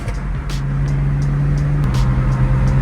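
A BMW 335i cruises in third gear on an early-morning drive, its engine droning steadily from inside the cabin while a few quick, faint exhaust pops crackle over the hum.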